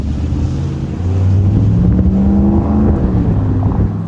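A car with a Borla exhaust, touring or S-Type, drives past, its low engine drone swelling as it nears and fading away, with wind buffeting the microphone.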